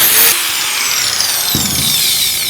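Power saw cutting through pork bones while breaking down a whole pig, a loud, close, high-pitched whine that continues steadily with a brief change in tone partway through.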